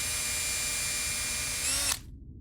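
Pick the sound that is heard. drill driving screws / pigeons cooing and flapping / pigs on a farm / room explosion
drill driving screws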